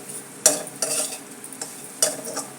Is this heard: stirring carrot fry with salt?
yes